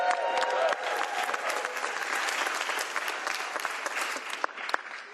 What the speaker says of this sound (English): give all of them a big round of applause